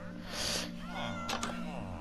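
Cat meowing inside a Minecraft game, a short mid-pitched meow standing out over game music and background, with a person talking through it.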